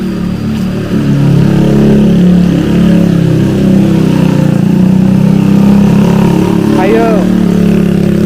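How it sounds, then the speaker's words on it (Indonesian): A motorcycle passes along a rural village road, its engine droning steadily and fairly loud throughout, while a person talks over it. "Ada motor, sepertinya orang yang"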